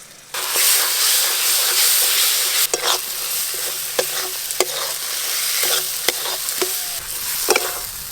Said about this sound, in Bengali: এই যে মশলা খুব ভালো করে কষানো হয়ে গেছে।